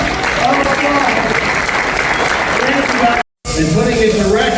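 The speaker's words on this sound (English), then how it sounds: "Everybody give Tyler and Rick a round of applause." Loud crowd applause at a landscaping product show demo, dense and continuous with some voices mixed in, briefly cut off by a dropout before resuming.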